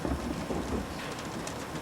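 A rain squall at sea pours down as a dense, steady hiss, with a low rumble beneath it and no voices.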